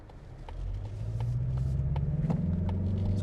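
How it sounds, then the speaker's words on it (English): A 2025 Mazda3 hatchback's turbocharged four-cylinder engine in sports mode accelerates on an open road, a deep low hum rising steadily in loudness and pitch over about three seconds, with faint clicks on top. "I love that sound of that deep 4-cylinder turbo"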